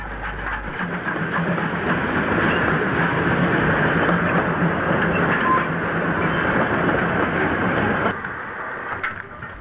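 Narrow-gauge 750mm steam tank locomotive train, a standard 2-10-2 tank, running on the Radebeul Ost–Radeberg line near Dresden; a steady loud rumble of rolling stock and engine continues for about eight seconds, then drops away abruptly.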